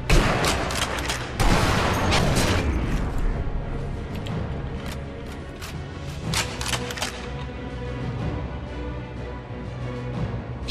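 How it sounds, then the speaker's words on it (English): Gunfire in the Sniper Elite V2 game, a sharp opening volley followed by repeated loud shots and scattered cracks over a lingering rumble, some close and others more distant. "I hear bullets."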